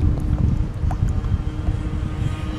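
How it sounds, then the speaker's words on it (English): Strong wind blowing outdoors by a bridge, a steady loud rumbling gust noise buffeting the microphone throughout with faint higher sounds above it. "well the wind's getting, is picking right up now"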